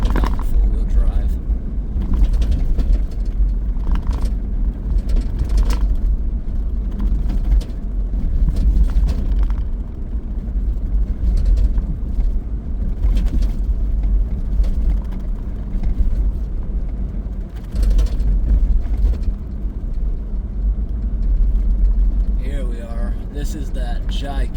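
A car drives in four-wheel drive along a hilly winter road, with a steady low engine and tire rumble running throughout. The noise swells and eases now and then, and occasional bumps and rattles break through. Someone talks over the driving noise.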